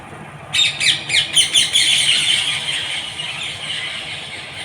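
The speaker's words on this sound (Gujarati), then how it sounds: "પોપટ આવી ગયા છે કેટલા બધા" Parrots calling outdoors in cool weather after rain, a burst of sharp repeated squealing calls rising in quick pulses, then a sustained loud chatter that slowly fades, fairly close.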